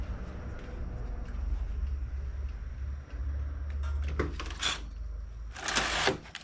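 A knitting machine with a ribber attachment runs near the mic, working medium-weight wool. A low hum is heard, then the carriage makes several sliding, clattering passes, the loudest near the end.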